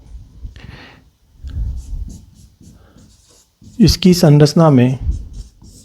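A pen or chalk scratches out notes by hand during a science lesson in short, close strokes, with someone speaking clearly near the end.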